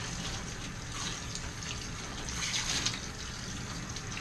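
Water runs steadily through a dog's coat as shampoo is rinsed out during a bath, a continuous close splashing flow with no talk over it.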